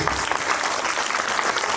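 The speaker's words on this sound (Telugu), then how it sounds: "ఒకసారి నచ్చితే అందరు క్లాప్స్ కొట్టండి ప్లీజ్." A school annual-day audience claps for a children's yoga performance, a dense, loud, continuous burst of applause from a crowd filling the short moment, with no one talking over it.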